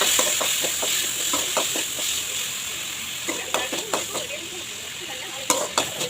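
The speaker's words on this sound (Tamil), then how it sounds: "பொடியாக நறுக்கி அது கூடவே சேர்த்து வதக்கணும்" Steady sizzling of chopped tomatoes sautéing in a pan, with a utensil scraping and tapping against the metal in irregular strokes.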